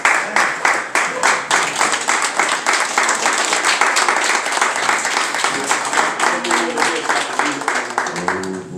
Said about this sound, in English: Let's receive him with a hand clap.